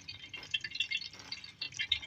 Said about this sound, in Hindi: चिकन को कुक करने के लिए मुकम्मल तौर पे 1/2 गिलास पानी ऐड करेंगे